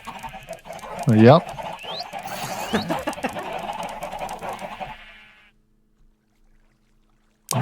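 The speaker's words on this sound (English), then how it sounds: "This is the chicken noises that you were hearing." Minecraft chickens clucking in the game, with a louder cluck burst early on and softer fowl sounds continuing as a person speaks briefly, then fading out into near silence.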